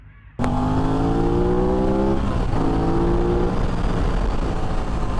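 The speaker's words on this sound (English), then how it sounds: "Aprilia has a better sounding exhaust from the factory." An Aprilia RS660 motorcycle fires up abruptly and revs hard through its stock exhaust, a loud throaty roar with rising and falling pitch that stays close and sustained.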